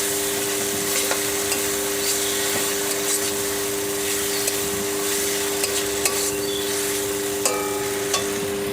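Spices and salt sauté in a pan for a traditional Bengali potoler dorma, a continuous sizzle broken by light stirring clicks over a steady background hum.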